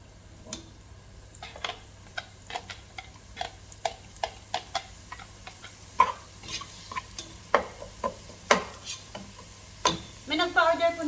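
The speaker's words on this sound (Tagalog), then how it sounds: "Magigisa ulit tayo ng sibuyas." Onion and garlic sauté in a pan for spaghetti, giving a soft sizzle under a scatter of sharp ticks and scraping stirs, irregularly spaced and close, with a busier burst of stirring at the end.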